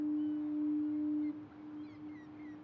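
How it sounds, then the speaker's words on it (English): Foghorn by the sea sounds a single long, steady low blast that holds for about a second and a half, then cuts off and fades into open, breezy ambience, with no voices. "Upon hearing the foghorn, my emotions are stirred by its socio-spatial context."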